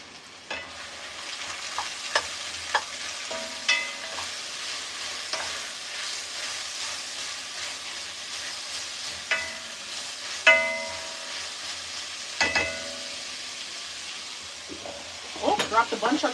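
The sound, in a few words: stirring frying broccoli with a wooden spatula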